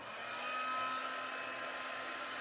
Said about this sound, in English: I'm going to take my heat tool and I'm just going to heat it a little bit.